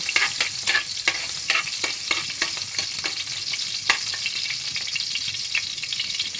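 Garlic fries in a pan with a close, steady sizzle and crackle, punctuated by repeated scraping stirs at an irregular pace, with no voices.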